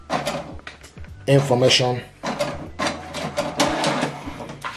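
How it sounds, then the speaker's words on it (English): An HP Deskjet All-in-One wireless printer printing a wireless information page, with mechanical whirring, clicking and feeding sounds in bursts, close by, alongside someone speaking. "what it's going to do now is going to print the wireless"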